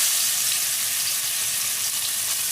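Chicken frying in hot oil, a dense steady crackling sizzle at constant loudness with no pauses.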